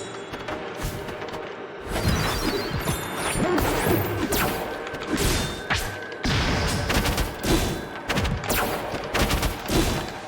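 Gunfire and crashing hits from a character's gun attack in the fighting game Rivals of Aether: loud, dense bursts of shots and impacts mixed with game music, running almost continuously after a short quiet start.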